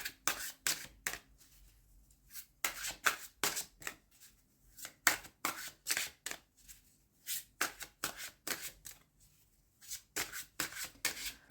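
Tarot cards riffled and shuffled by hand in a long series of quick, crisp bursts separated by short pauses, with a few soft slaps and slides as cards are drawn, close and alone.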